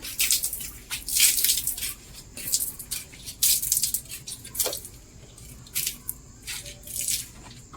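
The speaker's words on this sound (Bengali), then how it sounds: "একটু জলের ছড়া দিয়ে দিই সন্ধ্যাবেলা" Water is splashed and sprinkled onto the ground outside a rural home in the evening, in repeated bursts of spattering and pattering, close and moderately loud, with short pauses between throws.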